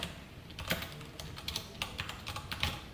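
Quick, light keystrokes on a computer keyboard during a React Native to-do app coding session, tapping in short uneven bursts at close range with no voices.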